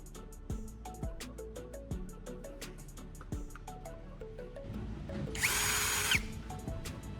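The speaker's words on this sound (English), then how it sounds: "Then I'll use my drill to make a hole." A power drill bores a hole in a DIY knife-sharpener build made from a turnbuckle, with repeated short trigger bursts and whirring pulses, then a louder high-pitched grinding spell near the end.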